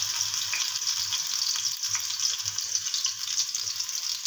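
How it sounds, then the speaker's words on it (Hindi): Garlic ginger paste fries in hot oil, a steady bright sizzle that holds throughout, close and fairly loud, with faint stirring underneath. "सबसे पहले मैं इसमें ऐड करूंगा ये पेस्ट किया हुआ लहसुन अदरक"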